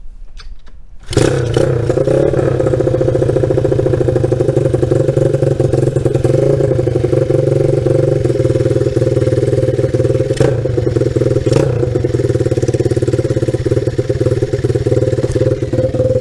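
A motorcycle engine fires up about a second in after a cleaned carburetor is refitted, then settles into a loud, close, steady idle with faint occasional clatter and no talking.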